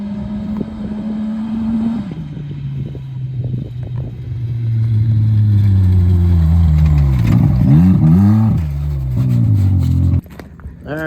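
Kenworth W900 truck rumbling around a farm, its engine note steady then climbing and revving hard as it drives, a loud continuous low growl close by with no talking.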